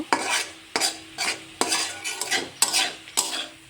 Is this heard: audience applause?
no